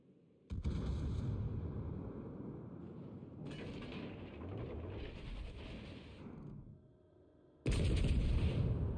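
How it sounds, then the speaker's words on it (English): Naval artillery in a warship battle video game, with guns firing on an enemy warship: a dense, sustained roar of heavy cannon blasts and explosions, easing off midway, then a fresh loud barrage at the end. "Concentrate fire on the enemy warship."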